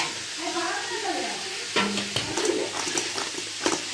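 A spoon stirs spices into river fish curry frying in a pan with curry leaves, garlic, ginger, salt and chili powder, giving a steady oil sizzle with scraping and clinking strokes of the utensil throughout.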